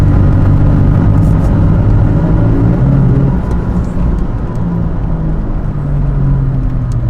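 A 2017 Toyota Tacoma pickup fitted with a Magnaflow Overland series exhaust drives along a road, giving a loud, steady low engine drone and road rumble from inside the cab.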